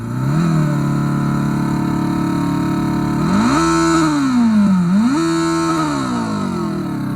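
A Fly E-Bike RZ electric motorcycle plays its simulated engine sound when throttled, giving a loud, close buzzing drone that idles steadily, then rises and falls through several revving sweeps.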